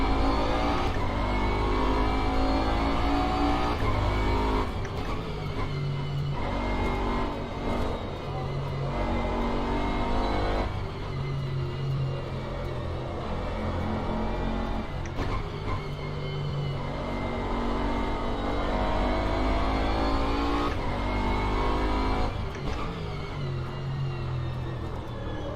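A Bentley GT race car in the rFactor 2 racing game roars continuously at close range, its engine note climbing through revs and dropping sharply at repeated gear changes and braking points, with no talk over it.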